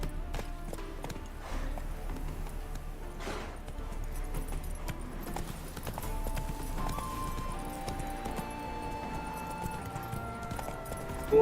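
A horse in The Witcher 3 gallops with fast, rhythmic hoof clip-clops and an occasional whinny, close and clear over quiet game music.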